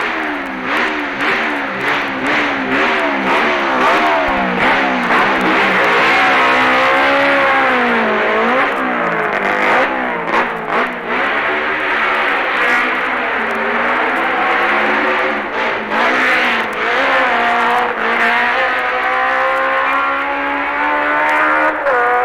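A Gilera racing motorcycle engine at the Isle of Man TT, at Governor's Bridge, revs hard and close for over twenty seconds, its pitch repeatedly climbing and dropping through gear changes, loud and alone.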